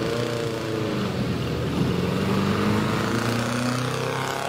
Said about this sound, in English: it's got the Brooklyn silencer at the back, the fishtail, and it still makes a nice noise